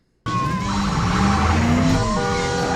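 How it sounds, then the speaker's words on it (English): Ambulance sirens wail at close range in a New York City movie scene, several overlapping tones sliding up and down over steady traffic rumble, loud and continuous after a brief silent start. "Can confirm this is how ambulances drive in New York City."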